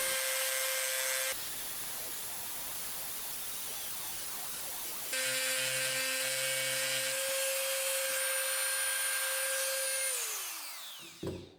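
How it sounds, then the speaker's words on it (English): Dremel rotary tool with a grinding stone shaping a deer antler knife handle, a steady high whine with a rougher grinding stretch as the stone bites the antler, then the motor spinning down at the end. "With the Dremel and the grinding stone, I'm going to angle down the sides away from the blade and then smooth out the edges."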